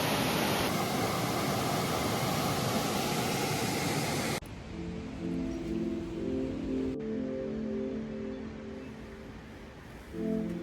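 Water from a mountain stream in the Pacific Northwest backcountry rushes in a loud, steady broadband wash, then drops to a quieter, more distant flow with low tonal hum layered over it.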